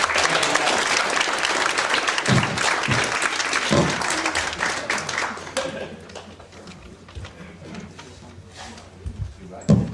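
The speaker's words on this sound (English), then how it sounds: "very welcome up on the stage and applause for Mr. Harris" A seminar audience applauds as a speaker takes the stage, a full burst of clapping with a few thumps in it that thins out midway, with some talking heard as it fades.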